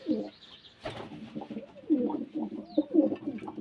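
Pigeons in a breeding setup coo softly and repeatedly close by, low rolling calls in an uneven rhythm with faint background noise.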